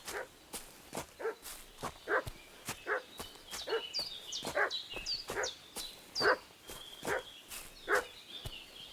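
Dog barking repeatedly in the medieval video game Kingdom Come Deliverance 2, a run of sharp, evenly spaced barks at moderate distance with faint higher whines between them and no talking.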